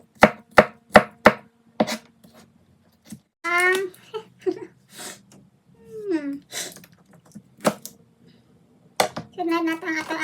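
Knife chopping onion on a cutting board in a home kitchen, a quick run of sharp, evenly spaced chops followed by scattered single cuts, with a voice and other talk breaking in between.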